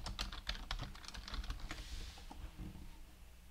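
Rapid close-up typing of code on a computer keyboard, a quick burst of crisp key clicks that thins out into a few scattered taps.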